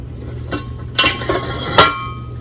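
A metal foundation bracket plate is dropped onto a helical pier, making a few sharp metallic clanks and knocks, two prominent close impacts with lighter taps between them, over a low steady hum.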